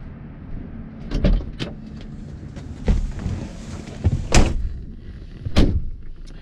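Doors of a 1955 Chevrolet 210 street rod swing open and shut, giving four or five sharp, solid thumps spaced about a second apart over a low background hum.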